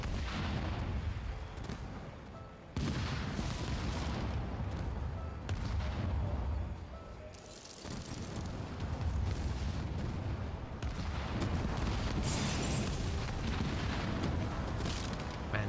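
Artillery shelling in the Halo Wars 2 real-time strategy game, a steady barrage of dull booms and rumbling impacts layered over continuous battle noise, moderately loud with no voices.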